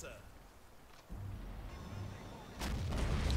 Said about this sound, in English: The explosions in this game are just so fun.